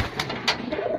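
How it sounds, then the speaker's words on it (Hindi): A fancy pigeon in Khandwa coos softly, a few short throaty coos rising and falling over about a second, close by with no talk. "फैंसी कबूतर ये हमारा बहुत लाडला कबूतर है"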